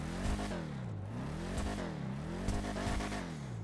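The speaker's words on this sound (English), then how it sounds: "Let's give her a rev." Mustang engine in GTA 5, a resto-mod style car, revving in a game: the engine note swells and falls in repeated rises across the clip, steady and close with no talk.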